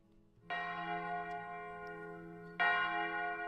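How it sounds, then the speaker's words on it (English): A large church-style bell strikes twice, a resonant toll that rings on and sustains, then a second, louder strike follows about two seconds later. "The bell will ring."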